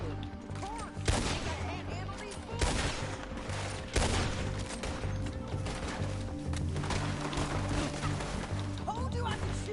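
Gunfire in the video game Red Dead Redemption 2, several sharp shots and a burst of rapid fire over dense game sound and music, with voices talking throughout.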